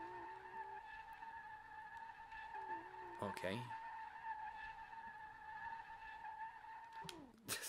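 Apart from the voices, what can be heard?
tires screeching while drifting a 240SX, video game SLRR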